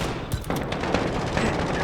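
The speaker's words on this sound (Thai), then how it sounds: "ยิงได้ต่อเนื่องเรื่อยๆครับ" Sustained rapid gunfire from a co-op shooter video game, a dense, continuous rattle of shots with a few sharper bursts near the start, loud and close with no speech.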